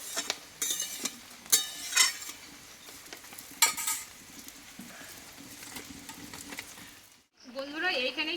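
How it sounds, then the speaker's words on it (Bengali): A vegetarian potato curry with mung dal simmers and is stirred in a pot, with soft bubbling hiss broken by several sharp clinks of a spoon against metal. "এবার কিছুক্ষণ মতো আমি তরকারিটাকে ফুটিয়ে নেবো"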